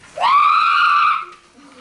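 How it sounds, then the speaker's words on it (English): A child performer playing the Gruffalo in a school drama production lets out one loud, sustained scream that rises, then holds steady for about a second before cutting off. "The Gruffalo screamed and collapsed to the floor."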